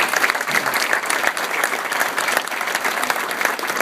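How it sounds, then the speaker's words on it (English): An audience at a local board of education meeting applauds steadily in dense, continuous clapping for retiring board members. "They deserve a round of applause."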